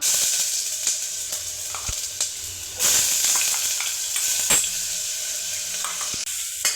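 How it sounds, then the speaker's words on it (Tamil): Ginger garlic paste sautéing in a spoonful of oil in a pan for mutton curry, a close, loud sizzle and hiss with scraping stirs and occasional sharp clinks. "இஞ்சி பூண்டு போட்டு ஃபஸ்ட்டு வதக்கிக்கணும்"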